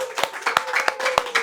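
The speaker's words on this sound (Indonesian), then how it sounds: "boleh kasih tepuk tangan dulu dong guys." Audience applause at an Indonesian talk show, a run of sharp hand claps in quick bursts under a steady background hum, fairly close and moderately loud.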